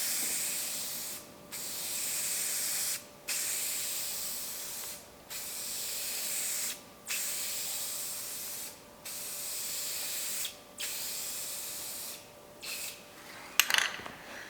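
Short hissing bursts from a spray can laying a light tint coat onto an F100 tail light, about eight evenly spaced passes with brief pauses between, close and steady.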